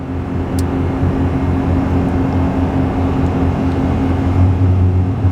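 A RAM 2500 pickup with a HEMI engine and ZF 8-speed transmission tows a load up a 6% grade in third gear, giving a loud, steady low drone with a constant rumble that stays even throughout, no talking.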